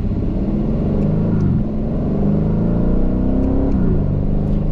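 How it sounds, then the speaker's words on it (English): A 2023 Aston Martin Vantage F1 Edition accelerates hard under a loud, close engine roar, with two quick gear shifts each marked by a sharp dip and rise in pitch. "You hear the way those shifts just fire off? How quick on the upshift, quick on the downshift, just crazy fast."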